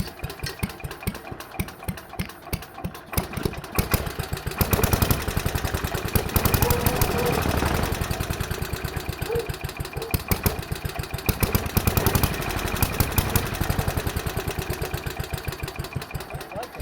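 A 69-year-old Briggs & Stratton 23A-FB engine runs steadily with a rapid, uneven mechanical chatter that stays loud and close throughout, surging slightly in the middle.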